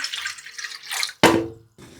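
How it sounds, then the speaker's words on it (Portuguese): About a liter of water poured into a cooking pot: a short splashing pour with a brief pause and a final gush, close up, with no talk. "E aqui mais ou menos 1 litro de água."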